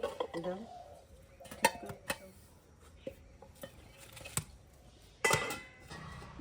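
A lid is set on a pot to steam an Oreo biscuit sponge cake, giving several sharp metallic clinks and clatters scattered among quiet kitchen handling sounds, with a louder knock near the end.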